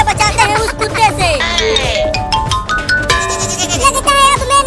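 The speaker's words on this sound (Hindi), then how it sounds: "वो रहा बकरी का बच्चा" Cartoon baby goat bleating amid a busy musical score, repeated wavering bleats loud and up front over music.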